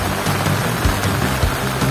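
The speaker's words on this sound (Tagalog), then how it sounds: "Ngayon, ang lakas pa rin ng ulan." Heavy rain falls steadily on a campsite during a storm, a dense continuous patter close by with no voices over it.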